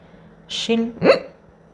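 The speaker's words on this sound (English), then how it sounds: "I don't know why I'm having hiccups." A woman hiccups once, a short sharp gulping sound with a voiced squeak, close to the mic in a quiet room.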